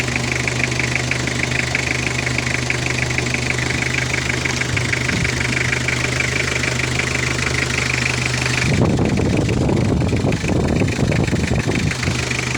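A Honda Mighty-X motorcycle engine idles steadily with a smooth, even hum close by; midway a rougher, louder rumble with knocking texture takes over and continues to the end.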